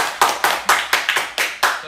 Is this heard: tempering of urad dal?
no